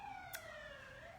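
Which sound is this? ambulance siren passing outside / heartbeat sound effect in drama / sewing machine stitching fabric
ambulance siren passing outside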